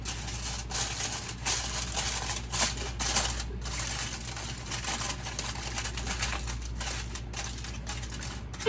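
Crinkly aluminum foil handled and pressed over a baking pan for an enchilada lasagna, a steady faint rustling and crackling with a few sharper crinkles, no talking.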